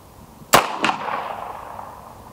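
Two sharp, loud rifle shots from a Henry Original carbine ring out close by, about a third of a second apart, each followed by a decaying echo outdoors.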